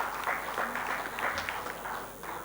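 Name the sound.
audience applause for a speaker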